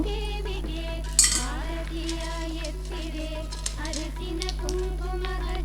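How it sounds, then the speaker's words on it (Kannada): Small gomati chakra shells dropped one by one into a metal kalash pot during a Varamahalakshmi festival setup, a few light clinks and one sharper metallic rattle under a steady background hum and quiet voices. "ನೋಡಿ, ಗೋಮತಿ ಚಕ್ರ ಹಾಕ್ತಾಯಿದ್ದೀನಿ 5"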